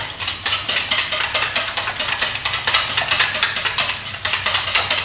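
Pre-soaked oats and egg are mixed in a bowl with rapid, rhythmic clinks and scrapes of a utensil against the bowl, steady and close with no talking.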